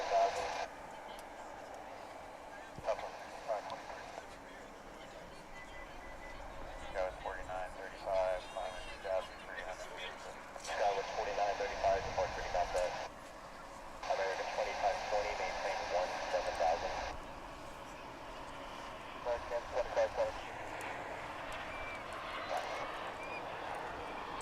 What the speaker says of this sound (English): I'm gonna say this is flight 3831 off to San Luis Obispo in California.